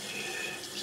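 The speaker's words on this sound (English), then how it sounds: "Right now, let me start the water." Water runs steadily from a tap with an even, continuous hiss that fills the short moment. It is meant to soak a compressed face towel. No voices are heard over it.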